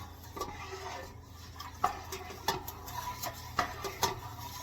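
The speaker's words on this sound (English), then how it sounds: "You take that Mesophilic and you just stir it in here real good" Mesophilic culture being stirred into milk in a pot, with a soft liquid swish underneath and several distinct clinks of a utensil against the pot at irregular intervals, quiet and close with no talking.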